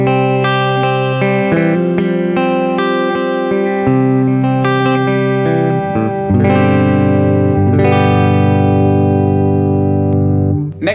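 Harley Benton SC-Custom electric guitar on its middle pickup through a clean Boss Katana amp with amp reverb, playing a sequence of single notes and chords, ringing clearly on its own with no talking.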